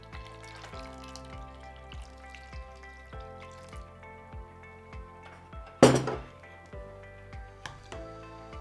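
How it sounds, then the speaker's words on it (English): Light clinks and taps of a spoon stirring water with soaked almonds for almond milk, a run of soft, regular strikes against the container with a trickle of water and one sharper knock partway through. "So I'll just pour the water in and stir it all up."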